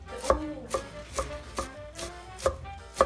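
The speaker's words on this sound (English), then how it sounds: "So you just sort of cut this down." A knife chops lettuce heads on a cutting board in sharp, evenly spaced strikes, about seven hits over three seconds, close and clear with no talking.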